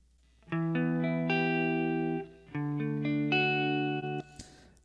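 A clean electric guitar plays sustained chords through an amp simulator with a modern 4x12 cabinet, two strummed phrases ringing out with a full, warm tone and a short scrape at the end.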